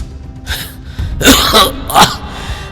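A man coughs in a dramatised spoken story, giving several harsh, loud bursts that build into throat-clearing coughs, close up with no talk over them.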